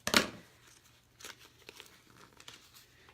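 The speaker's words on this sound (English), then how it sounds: "I'm doing those separate, so I'm gonna just cut them apart." White vinyl wheel shapes for a vintage truck decal are cut apart with a crafting tool, making a sharp crinkle at the start and then scattered quiet snips and rustles close by.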